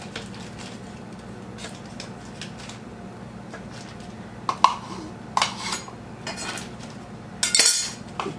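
Butter for a cabbage casserole topping is cut into pieces with a knife, giving soft taps and a few sharper clinks of metal on a dish. A final louder clatter comes near the end, all up close.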